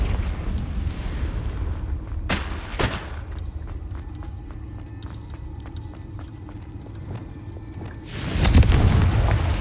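Confringo blasting spell explosions in Hogwarts Legacy: two loud, sudden bursts several seconds apart, the second with a heavy booming rumble, set against steady game background noise.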